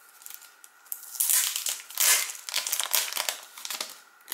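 A crinkly plastic packet holding a Spellbinders stencil kit is opened by hand, giving close, loud bursts of crackling and rustling that swell and fade over several seconds.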